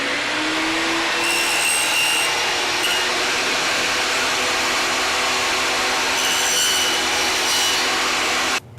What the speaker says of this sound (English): I'm just going to go up inch by inch and nibble off little pieces for the frets.